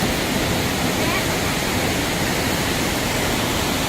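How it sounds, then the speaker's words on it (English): Tat Yuang Waterfall on the Bolaven Plateau near Paksong, Laos, roaring as a loud, constant wall of rushing water close by, wet and misty. "It is wet and misty at the waterfall here."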